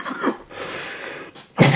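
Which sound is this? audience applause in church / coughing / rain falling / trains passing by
coughing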